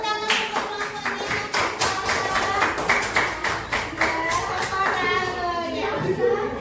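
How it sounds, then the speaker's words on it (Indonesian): Classroom applause for a student group: many hands clapping together in a steady, busy patter, with children's voices and chatter mixed in throughout. "kasih tepuk tangan untuk kelompoknya"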